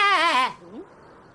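A single short, wavering sheep bleat rings out loudly and close for about half a second, then fades into quiet room tone.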